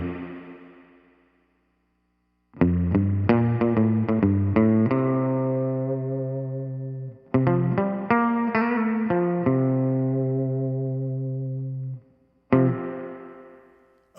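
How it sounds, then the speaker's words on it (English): Electric guitar played through a pedal's tube-driven tank spring reverb setting, surf style: bright plucked notes and chords in three bursts, each ringing out with a long, drippy reverb tail into silence. "there is the tank reverb, which offers that super drippy, tube-driven outboard reverb sound for all the surf guitarists out there"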